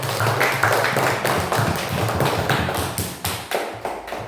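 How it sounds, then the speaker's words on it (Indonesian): Classroom applause for a student group in a lesson: dense, steady clapping from many hands, close and loud, filling the whole stretch with no talk over it. "Kita tepuk tangan dulu untuk kelompok"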